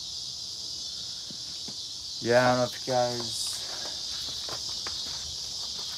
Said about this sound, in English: We got locust